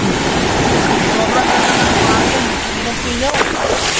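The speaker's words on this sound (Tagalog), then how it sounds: "Bakit ganito kalakas ang alon ng dagat?" Strong ocean waves pound the shore at Pagod Beach, Ilocos Norte, in a loud, continuous surf roar with wind noise hitting the microphone, and a voice is briefly heard near the end.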